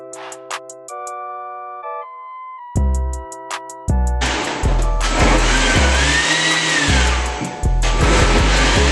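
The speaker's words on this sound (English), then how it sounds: "my drink actually started coming out of the blender, so I had to run and cut that off." A few chiming electronic beeps sound alone before a blender roars to life, mixing a jam cocktail with a loud, whining motor that surges and churns through the ingredients until it stops abruptly near the end.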